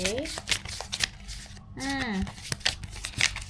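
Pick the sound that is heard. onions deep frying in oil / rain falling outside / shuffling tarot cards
shuffling tarot cards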